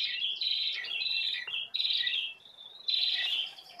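Prinia (perenjak) birds calling: high, rapid chirping trills repeating in bursts throughout, fairly close and clear over a quiet outdoor background with no talking.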